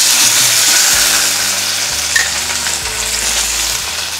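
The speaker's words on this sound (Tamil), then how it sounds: "இது வந்து உருளைக்கிழங்கு ஃப்ரை பண்ண போகிறேன் கார்த்தி" Boiled potatoes fry in a pan for a school lunch, a loud, close, steady sizzle with faint stirring scrapes running through it.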